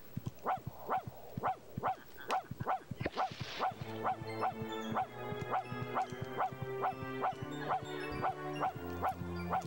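A dog in the PS1 video game The Grinch barks in a steady, rapid series of short yips, and a looping game melody joins partway through.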